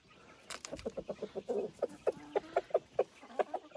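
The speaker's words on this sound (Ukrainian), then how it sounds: "Вон, бачите, якраз півник їх покликав" A rooster calling Dominant breed hens gives a rapid series of short, rhythmic clucking calls, fairly close, with other fowl faintly in the background.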